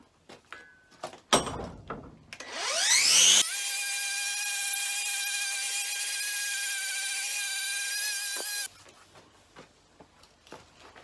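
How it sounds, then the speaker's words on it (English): A power tool buffs and cleans up blacksmith hammers and an 1830s London anvil. Its motor spins up with a rising whine, holds a loud, steady tone for several seconds, then cuts off, with clatter before and after. "give the hammers and bits and pieces a bit of a buff, and pretty them up a little bit"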